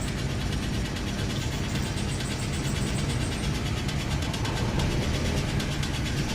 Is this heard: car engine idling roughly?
yes